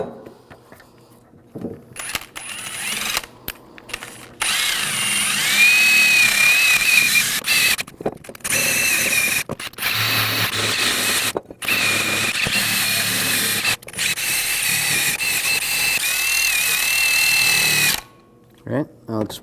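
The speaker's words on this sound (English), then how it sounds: "I'm going to use a wire brush." A wire brush spun by a power drill scrubs corrosion off a brake caliper bracket on a 2006-2009 Audi S4 4.2L V8, a loud continuous whirring grind that stops and restarts several times, heard close up.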